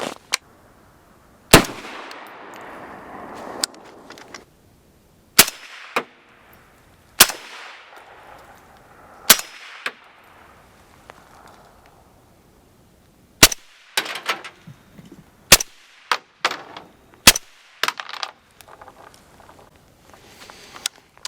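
Shots from a Q Porq Chop firearm ring out as sharp isolated cracks with short decaying tails, spaced irregularly and then bunching closer together toward the end, fairly loud against a quiet background.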